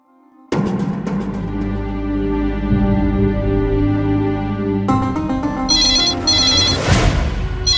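A telephone ringtone plays loudly and steadily for several seconds in an indoor domestic drama scene, its tonal pattern shifting midway with brighter repeated chirps near the end; no one speaks.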